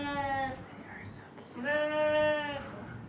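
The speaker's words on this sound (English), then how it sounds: "look at all those beautiful, gorgeous little lambs" Young spring lambs on a farm bleat in two long, wavering calls, the second louder and sustained, with a brief quiet gap between them and faint background noise.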